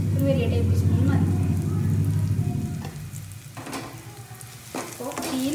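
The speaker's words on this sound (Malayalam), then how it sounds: "ഈ ലോ ഫ്ലെയിമിൽ വെച്ചിട്ട് നമ്മൾ മുളക് പൊടി നന്നായി മൂപ്പിച്ചെടുക്കുക" Chili powder fries in oil in a pan over a low flame, a steady sizzle with stirring scrapes, loud at first and thinning out. A voice talks over the first half.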